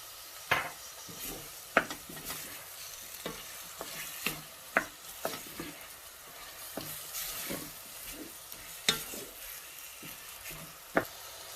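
Lamb and sea fennel sauté in a pan with a steady close sizzle, broken by sharp scrapes and clacks of a utensil stirring every second or so, with no voices.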